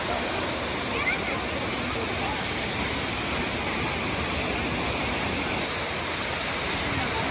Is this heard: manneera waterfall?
yes